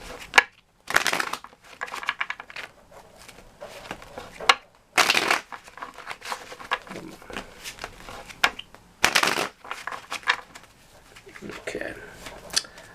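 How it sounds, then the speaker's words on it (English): Tarot cards being shuffled in several bursts of riffling and sliding, with quieter shuffling between them and a voice talking over parts. "I've already pre-shuffled, but we'll give it a couple more."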